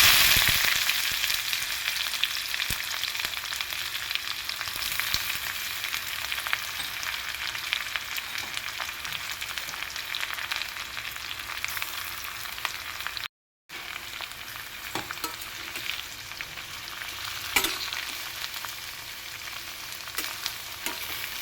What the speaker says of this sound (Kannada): ಕಟ್ ಮಾಡಿಟ್ಟಿರೋಂಥ ಈರುಳ್ಳಿನ ಹಾಕ್ಕೊಳ್ಳಿ